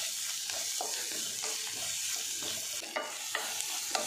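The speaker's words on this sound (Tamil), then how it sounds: "இப்போ எல்லாமே நல்லா வதங்க ஆரம்பிச்சிருச்சு" Bitter gourd sautéing in a pan with salt and turmeric sizzles steadily and faintly, broken by repeated scraping and stirring strokes of a spatula, with no voices.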